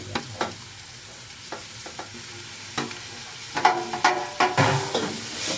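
Pork innards dropped into a pan of sautéing garlic and onion for papaitan, with scattered utensil scrapes and then a louder burst of sizzling as the meat goes in.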